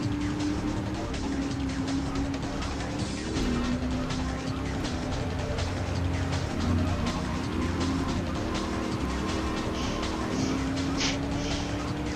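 A car drifting in the GTA 3 video game, its engine droning loudly and continuously with repeated rising and falling pitch swells as the tires slide through turns.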